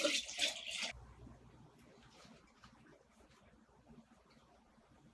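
Tap water is poured into a container for propagating plant cuttings, a loud splashing gush for about a second, then fading to faint trickles.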